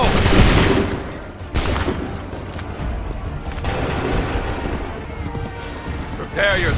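Musket volley in the video game Assassin's Creed 3, dense crackling gunfire and booms layered with battle noise, loud and continuous, with voices shouting over it.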